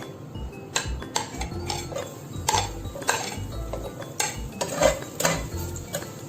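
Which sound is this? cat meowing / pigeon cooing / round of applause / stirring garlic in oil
stirring garlic in oil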